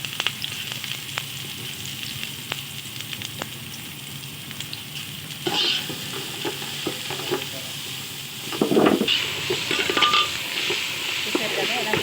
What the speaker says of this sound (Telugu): దానికి తగినంత నూనె వేస్తున్నాను. ఉల్లిపాయ ముక్కలు,